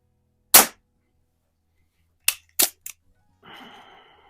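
Baikal IZH-46M air target pistol firing, one sharp close crack, then a quick cluster of similar snaps and clicks, followed by a soft rustling handling noise.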